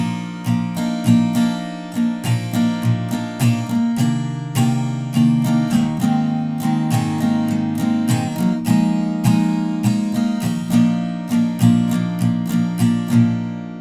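A guitar plays the bridge from a song, a steady rhythmic stream of picked and strummed notes repeating evenly for many seconds, close and alone.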